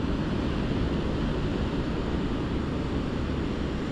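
Steady broadband roar of ocean surf breaking at Anglet beach in the Basque Country, continuous and fairly loud with a wind-like wash throughout, no distinct individual wave crashes and no voices.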